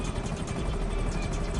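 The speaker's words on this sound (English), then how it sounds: "I'm barely on the gas, and I'm passing her in the helicopter" A helicopter flying in the video game GTA V during a cargo delivery run, a loud, steady rotor thrum and engine drone throughout.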